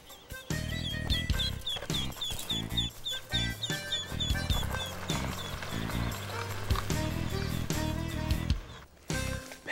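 Ducklings give rapid high peeps, repeated and fairly close, over steady background music.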